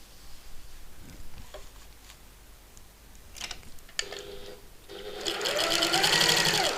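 A sewing machine runs a back stitch along fabric during a button lock sew-along, first in short bursts and then in a steady, loud whirring run near the end.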